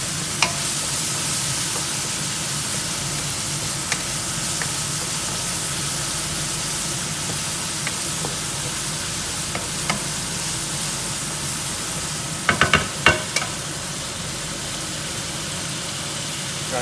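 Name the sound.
ground pork sausage frying and crisping in a pan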